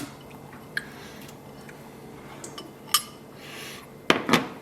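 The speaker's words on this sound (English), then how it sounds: "I'm going to mix this with a fork" Fork stirring a mushroom kotletai mixture in a bowl: quiet, soft squishing with scattered clinks of metal against the dish, sharpest in a couple of quick knocks at the end.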